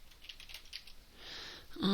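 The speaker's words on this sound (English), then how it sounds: "I'm using the delete and the backspace here" Quiet computer keyboard typing with the delete and backspace keys pressed while editing a spreadsheet chart, soft irregular clicks close to the microphone.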